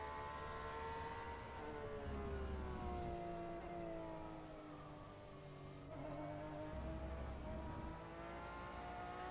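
A GTE race car in the Le Mans Virtual Series sim racing game at Spa, its engine droning steadily throughout with rising and falling pitch as it accelerates and shifts, loud and continuous with no talk.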